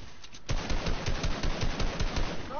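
Gunfire in the Fortnite video game, a rapid run of repeated shots firing in a steady rhythm for about two seconds after a quiet start, loud and close.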